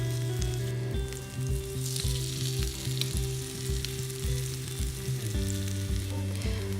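Cauliflower, leek and kale fritter batter sizzles steadily in a hot frying pan, three fritters cooking at once, with a continuous crackling hiss and regular soft knocks from the pan or utensil throughout.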